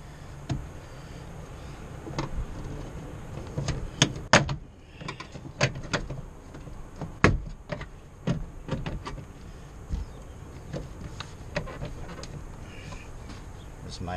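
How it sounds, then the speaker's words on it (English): Repeated sharp clicks and plastic snaps of a car door panel being pried loose with a flathead screwdriver, scattered irregularly over a low background hum. "Just using a flathead screwdriver to pop this door panel off."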